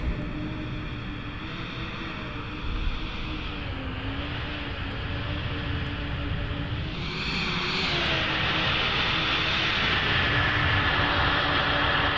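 Simulated Fenix A320 airliner landing in Microsoft Flight Simulator 2020, with a steady engine whine and rushing noise whose pitch drifts, then a louder broadband roar near touchdown that holds to the end.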